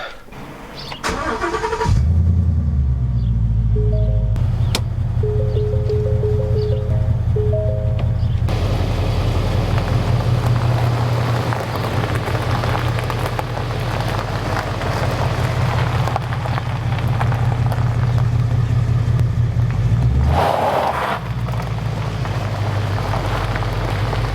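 A wrecked 2017 Ford Mustang GT V8 starts after a few short clicks and settles into a loud, steady, close idle and rolling rumble that continues for about twenty seconds, with a brief rev near the end.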